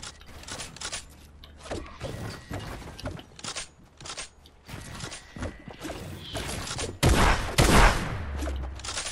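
Gunfire in a shooter video game, with bursts of rapid shots and sharp cracks scattered over mechanical clicks and whooshes, getting louder near the end, with no talk.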